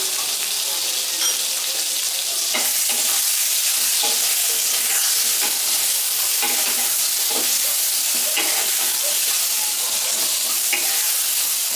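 Brinjal pieces frying in a pan for a hilsa curry sizzle loudly and steadily while a utensil stirs and scrapes through them in irregular strokes, close up and without talk.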